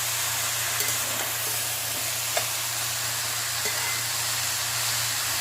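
Cabbage frying with spices in a pan on high flame, a steady close sizzle with a faint hum underneath and occasional light scrapes of stirring, no voices.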